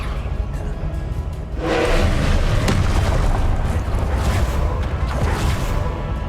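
A Confringo spell explodes in the Hogwarts Legacy video game. A loud, sustained blast of rumbling noise swells in and fills the rest of the clip, with no voice over it.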